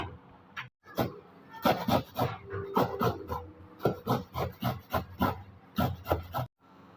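A fresh cucumber is grated by hand for Maharashtrian cucumber vade, giving a steady run of close, rhythmic rasping strokes with a few brief pauses.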